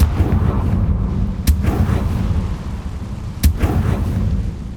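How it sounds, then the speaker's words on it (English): A fire spell blast cast in Hogwarts Legacy, with two sharp bursts about two seconds apart over a dense, rumbling low roar of constant game noise. "Confringo!"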